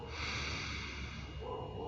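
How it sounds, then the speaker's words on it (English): A single long, deep breath drawn in through the nose, a steady airy hiss lasting about two seconds, quiet and close. "And start off by taking a nice deep breath in through the nose."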